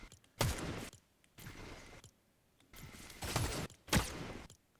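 Bursts of automatic gunfire from a shooting video game replay, several loud clustered volleys separated by short quiet gaps, with no talking.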